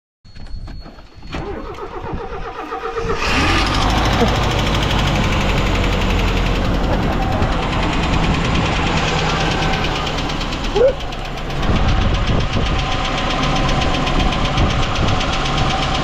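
Old 32-year-old Mazda truck engine cranking briefly, then catching and settling into a loud, steady, slightly knocking idle that runs for many seconds close by.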